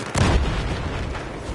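A loud, booming grenade explosion in Battlefield 4 bursts out near the start and leaves a rumbling, noisy tail.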